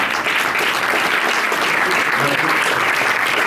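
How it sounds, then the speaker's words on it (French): An audience at a book signing in Paris applauds Pascal Henry and Vanessa with a continuous, even wash of many hands clapping at close range that lasts the whole stretch. "On les applaudit aussi."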